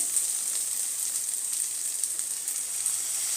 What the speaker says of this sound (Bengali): আমি মশলাটাকে কষিয়ে নেব